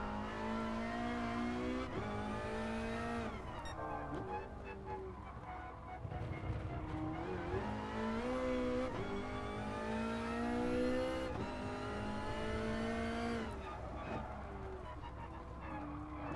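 Ferrari race car engines roar in the Gran Turismo Sport video game, with continuous high-revving engine note rising and falling through gear changes. The sound is loud and sustained, with pitch sweeps as the cars accelerate and shift.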